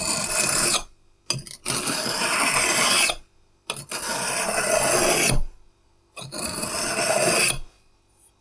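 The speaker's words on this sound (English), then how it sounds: "I'm gonna take away the burrs by taking the whetstone and just" A whetstone is dragged along the blade of a branch cutter to remove burrs, giving four close, loud rasping strokes separated by short pauses.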